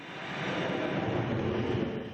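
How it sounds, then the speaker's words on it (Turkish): New-generation Russian military jets during the Kavkaz 2020 exercise in Russia, a steady broadband roar of jet engines holding loud and unbroken throughout, with no voices. "Rusya'ya ait yeni nesil jetler de tatbikatta boy gösterdi."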